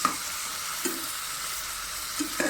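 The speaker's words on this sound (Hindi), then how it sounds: "गाइस मैंने इसके अंदर अदरक लहसुन का पेस्ट और क्रश किया हुआ प्याज डाल दिया है। अब हम इसको करेंगे 2 से 3 मिनट के लिए फ्राई।" Ginger garlic paste and crushed onion fry with chicken in a pan, making a steady, even sizzle with a few soft stirring taps, heard alone for a short moment.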